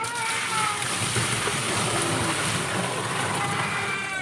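Water splashes and sloshes loudly and continuously as it is poured out during a boat repair, a steady rushing splatter with people talking underneath.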